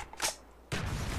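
An AK-47U fires a rapid sustained burst in a first-person shooter game during a Domination match on the Firing Range map. A faint shot or two comes first, then loud continuous automatic fire runs to the end.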